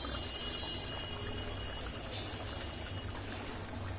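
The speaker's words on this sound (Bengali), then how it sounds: "আর চারিপাশ দিয়ে একটু ঘি দেওয়া হবে" Ghee poured around the edges of a Katla fish kalia (fish curry) simmering in a pan, a steady continuous pouring and sizzling wash that runs unbroken and fairly close.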